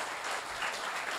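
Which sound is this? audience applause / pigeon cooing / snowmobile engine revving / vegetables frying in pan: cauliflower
audience applause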